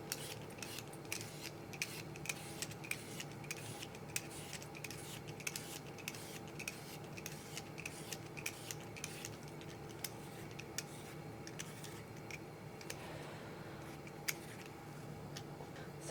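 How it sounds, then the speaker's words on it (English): Potatoes being peeled with a small paring knife produce a steady run of light scraping clicks and ticks, close and fairly quiet, with a soft background hum and no voices. "To start off with, I'm just going to peel my potatoes."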